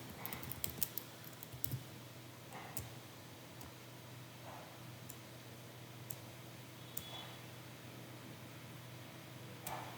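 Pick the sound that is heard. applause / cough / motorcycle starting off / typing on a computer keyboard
typing on a computer keyboard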